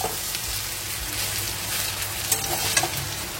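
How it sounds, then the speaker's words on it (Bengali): Pasta frying in a pan, a steady dense sizzle and crackle with occasional stirring scrapes, close and continuous, no voices. "আর এদিকে পাস্তাটা প্রায় হয়েই গেছে, আর একটু ফ্রাই করেই নামিয়ে দেবো।"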